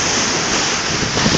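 Sea surf rolls onto Molunan beach in a steady, broad wash of breaking waves, close and continuous, with wind buffeting the microphone.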